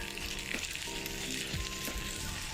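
Potato naan with black seeds frying in a pan with oil and ghee, a steady dense sizzle with faint thumps, close and even throughout with no voices.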